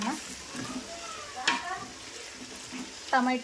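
Onions, chillies and tomatoes fry in a big pot with a soft sizzle and stirring scrapes. Short voiced sounds break in now and then.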